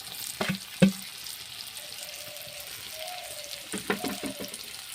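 Mashed pea filling sizzles and fries in a wok-like kadai, with a few sharp scrapes and clatters of stirring breaking through the steady crackle.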